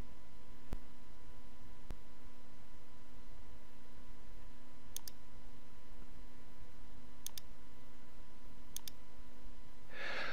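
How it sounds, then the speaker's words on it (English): A few sparse, faint clicks of arrow keys pressed on a computer keyboard, spaced seconds apart over a steady low electrical hum in a quiet room. "I'm using the arrow keys on my keyboard to move it down"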